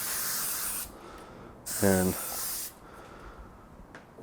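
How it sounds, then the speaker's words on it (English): A can of spray adhesive hisses in two short bursts, loud and close, with a brief pause between them and a voice under the second burst. "So I'm just going to take some spray adhesive"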